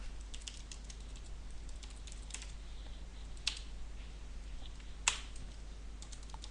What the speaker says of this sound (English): typed localhost wrong